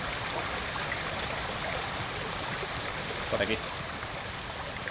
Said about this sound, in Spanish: Tengo una cascada.